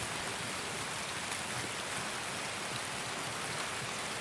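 Heavy rain pours steadily in Escape from Tarkov, a dense, even hiss with no breaks, soft but constant throughout.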